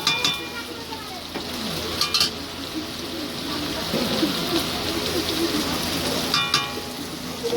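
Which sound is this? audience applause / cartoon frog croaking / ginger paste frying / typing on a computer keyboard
ginger paste frying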